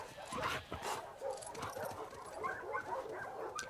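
Dog in The Last of Us Part II video game yipping and whimpering in short excited bursts, close and fairly quiet, with brief pauses between cries.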